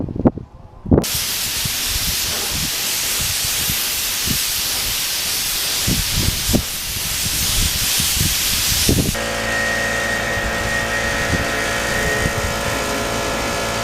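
A spray gun hissing steadily as clear coat is sprayed onto a motorcycle carrier in a garage. The loud continuous spray starts after a short click and later gives way to a tonal compressor-like hum.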